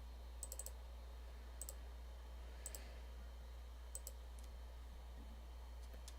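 Several sharp computer mouse clicks, some in quick double or triple bursts, spaced across a quiet room with a steady low hum underneath, while choosing a file to upload in pool service billing software.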